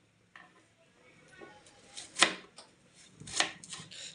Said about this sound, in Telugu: ఉల్లిగడ్డ కూడా అలాగే అదే విధంగా కోసుకుందాం మనం